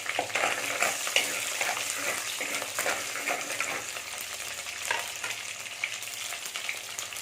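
Shallots, garlic and curry leaves sauté in a pan for a Tamil drumstick and potato kara kuzhambu, with a dense crackling sizzle and frequent light clinks and scrapes of stirring throughout.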